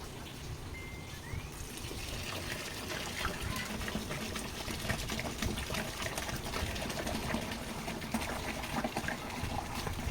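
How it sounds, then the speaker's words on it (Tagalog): Water pouring steadily into a homemade dishwashing liquid mixture made with dissolved SLES, a continuous broadband gush that stays at an even level with no talking for about ten seconds. "So bali ilalagay na natin ngayon yung tubig."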